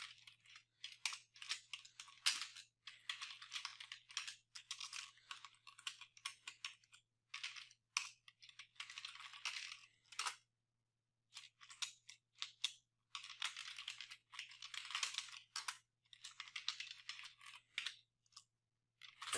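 A computer keyboard clatters with quick, soft keystrokes in uneven bursts and brief pauses while code is typed, close and fairly quiet over a faint steady hum.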